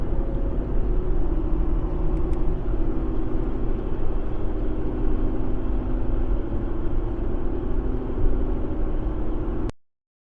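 Constant low road and tire rumble inside a vehicle riding on Toyo Open Country RT Trail tires at 70 mph, a steady, fairly loud drone that cuts off abruptly near the end, with no talking.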